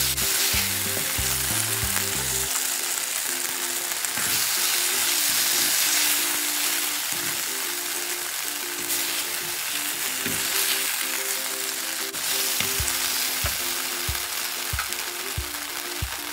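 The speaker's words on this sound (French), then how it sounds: "On cuit la viande." Beef fries in a hot wok with a strong, continuous sizzle, accompanied by repeated scraping and stirring knocks against the pan.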